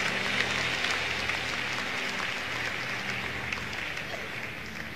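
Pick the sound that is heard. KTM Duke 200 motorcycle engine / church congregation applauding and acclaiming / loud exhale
church congregation applauding and acclaiming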